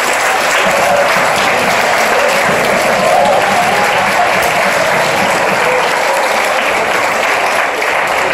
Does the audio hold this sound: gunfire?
no